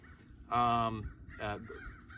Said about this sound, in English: That bird's laughing at me.